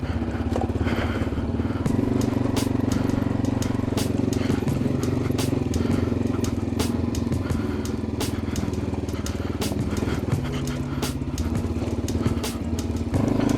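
Dual sport motorcycle crawling over boulders, a steady close engine drone with frequent sharp clatters and knocks from rocks throughout, with a voice faintly under the engine.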